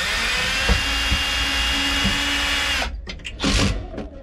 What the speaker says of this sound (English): Okay, I'm gonna make some pilot holes. The new screws. And put the new screws in.